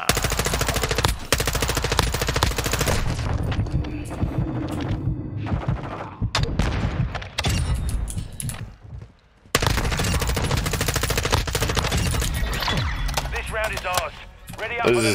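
Sustained, loud machine gun fire in the Call of Duty video game, with long rattling bursts that break off briefly and then resume, plus scattered gunshots and players chattering over the gameplay.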